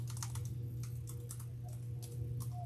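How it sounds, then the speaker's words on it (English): Typing on a computer keyboard: a quick, irregular run of light clicking keystrokes, fairly faint, over a steady low background hum. "see if I can type it in"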